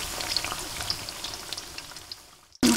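Sweet potato pieces with sesame fry in oil over low heat with occasional stirring, giving a soft, steady crackling sizzle with scattered pops before the sound cuts off sharply.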